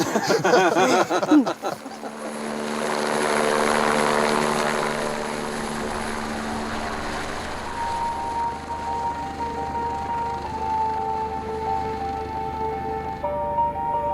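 An aircraft engine spools up for takeoff and climbs out, giving a loud rising roar that settles into a steady droning hum with a thin tonal whine as it gains height.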